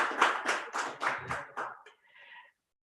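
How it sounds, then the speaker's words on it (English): A small audience at an education forum claps briefly, a handful of sharp, spaced bursts that fade away after a couple of seconds, heard fairly quietly and without talk over it. "I think they deserve a round of applause wherever they are."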